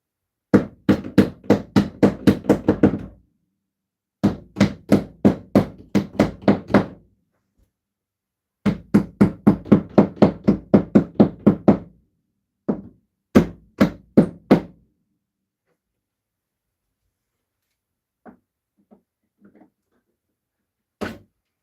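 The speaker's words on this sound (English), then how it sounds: "Try the hammer first." A hammer drives nails into wall paneling during a room remodel, with fast rapid-fire strikes in three long runs and then a few slower single blows. The hits are loud and close, followed by quieter taps.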